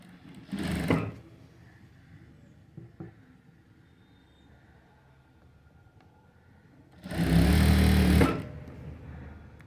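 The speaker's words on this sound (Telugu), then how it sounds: "దీన్ని ఇలా పెట్టేసి కుట్టు వేసేసుకుందాం" Sewing machine stitching blouse pieces, with two short bursts of fast mechanical whirring separated by a long quiet stretch with light handling noises; the second burst is longer and louder.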